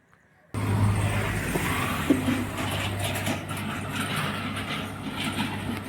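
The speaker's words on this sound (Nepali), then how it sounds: "यो चाहिँ नेपालको रेल हो, छोटा रेल।" A small train passes close by in Nepal and cuts in suddenly with a loud, continuous rumbling roar and a low steady hum that carries on without a break.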